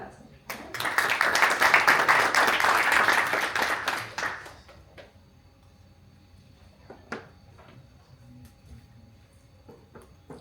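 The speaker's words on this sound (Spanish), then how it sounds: "Un aplauso." Audience applause at a sustainability and climate change panel during a city summit, a loud burst of clapping filling the hall for about four seconds before fading into room quiet with scattered faint noises.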